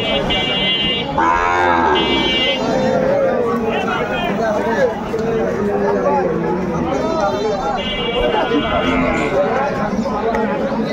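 Sahiwal bulls, calves and cattle low and moo repeatedly at a busy livestock market, loud drawn-out calls rising above dense crowd chatter and talking, with occasional hoof clatter in the background.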